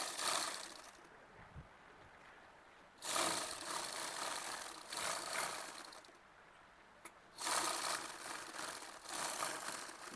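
A sewing machine stitches a langa skirt, whirring in sustained runs broken by short pauses, close and moderately loud with no voices.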